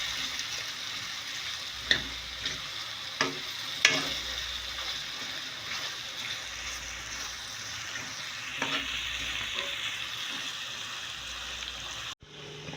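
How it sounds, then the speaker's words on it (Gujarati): Carrot sambharo with garlic chili cooks in a pan, a soft steady sizzle broken by occasional scraping stirs and light knocks of a spoon. "તેને સારી રીતે મિક્સ કરી લઈશું હલાવીને"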